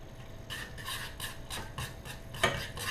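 Food colouring being gently folded into macaron batter, a soft rhythmic scraping and rubbing of spatula against the bowl, repeated strokes with one sharper scrape near the end, close and fairly quiet with no talk.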